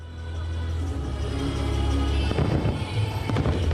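Fireworks bursting over New York's East River during Independence Day celebrations, a sustained low rumble with crackling and thudding bursts building toward the end, fairly loud and continuous.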